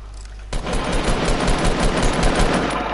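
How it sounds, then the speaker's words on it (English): A loud, continuous burst of rapid automatic gunfire in a video game starts after a half-second lull and rattles on evenly to the end without pause. "Somebody's shooting at us."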